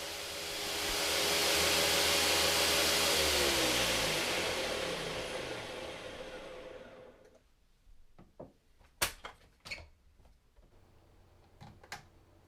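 A Nutri Ninja Auto IQ Duo or Blendtec blender grinds sunflower seeds into powder with a loud, rising motor whine that swells over several seconds, then spins down, followed by scattered knocks and clicks in the quiet.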